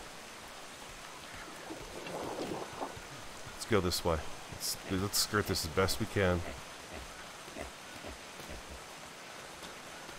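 Steady rain hisses throughout in a video game while someone speaks briefly in the middle of the recording.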